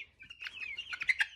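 Baby chicks outdoors give a quick series of high, thin peeps, several overlapping chirps close by with no talking.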